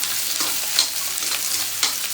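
Chopped onion frying in reused oil left from making bhaji, a steady close sizzle with faint stirring scrapes and a couple of brighter crackles, no voices.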